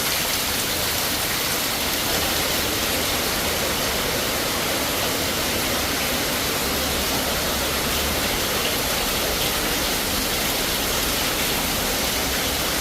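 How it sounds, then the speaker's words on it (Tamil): Heavy rain pours steadily over a village in Jaffna, a dense, unbroken hiss of downpour that stays loud and even throughout, with no voices. "நல்ல மழை"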